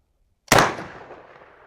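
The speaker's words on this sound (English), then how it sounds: "You got your 590, right? Let's go shoot that." A Mossberg 590 shotgun fires a single shotshell outdoors, one sharp loud blast that rings out and decays over about a second, with no talking.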